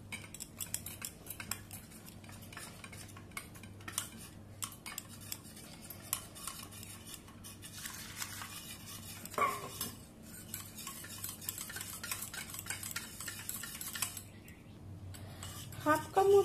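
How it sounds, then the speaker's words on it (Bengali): A spoon stirs custard powder into about half a cup of milk in a bowl, giving light, irregular scraping clinks against the sides, faint and close, with a low background hum and occasional voice murmurs. "হাফ কাপ মতো দুধ দিয়ে 2 চামচ কাস্টার্ড পাউডার প্রথমে গুলে রেখে নিলাম"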